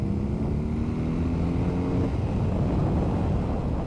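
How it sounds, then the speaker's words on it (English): A 2021 BMW R18 First Edition flat-twin cruiser rumbles at speed in a low gear, a steady engine drone mixed with wind rush that shifts in pitch partway through, with no voices. "the flat twin sound in this is very different to what I've experienced of the 1250 motorcycles on BMW's GS or RT"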